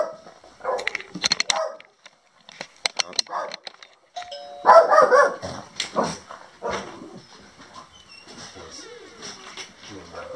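Dogs bark excitedly in a home as someone arrives, with a doorbell-like chime and people talking over the yaps.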